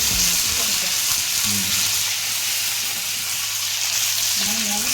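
Hot oil sizzles and crackles steadily from a pan, a dense broadband frying hiss that runs throughout at close range, with brief faint voices underneath.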